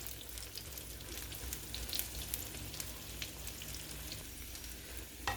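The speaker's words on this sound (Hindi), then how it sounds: "अगेन इसको पलट लेंगे और कुक कर लेंगे इसे अच्छे से दोनों साइड से।" A paneer paratha cooking in oil on a pan gives off a low, steady sizzle that runs unbroken the whole time, with no talking.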